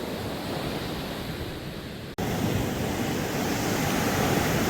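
Ocean surf on a beach in Chennai during surf fishing makes a continuous, loud wash of breaking waves with wind rushing across the microphone and a brief cut midway.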